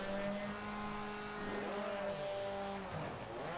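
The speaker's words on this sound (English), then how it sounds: "The revs are climbing." Touring car engines rev and climb at the start of a Mugello race in a racing video game, several engines blending into a loud steady drone with rising and falling pitch sweeps.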